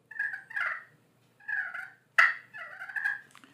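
A turkey call mimics a hen's clucking purr: a few short, soft rolling purrs spaced apart, then a sharper cluck leading into another purr, close and clear against quiet surroundings.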